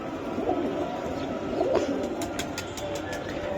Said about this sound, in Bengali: এটা মশালদম একটা কবুতর